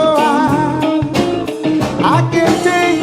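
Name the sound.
closed triad chord played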